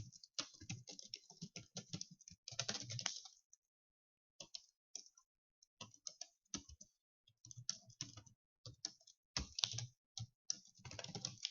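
A computer keyboard is typed on up close while trade journal notes are entered, with bursts of quick clicky keystrokes separated by short pauses.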